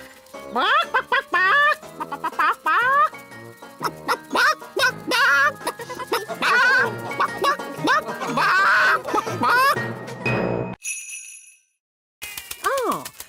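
A cartoon chicken clucks in a rapid series of short, bright, squawky notes under busy voices and music, ending with tinkling chimes after a brief gap.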